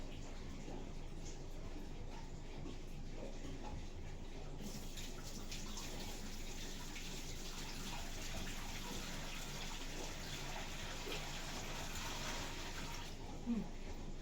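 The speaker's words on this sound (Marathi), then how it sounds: "चला तर पाणी टाकायची वेळ आली." Water pours steadily into a fish tank being filled by hand, a continuous broad gushing wash that runs for the whole stretch at moderate, close range, with no talk over it.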